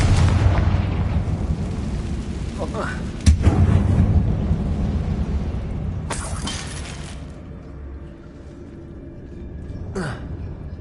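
A Confringo fire spell from Hogwarts Legacy bursts with a sharp crackling blast inside an abandoned mine tomb, followed by rumbling debris and a second bright burst, with a short spoken incantation nearby.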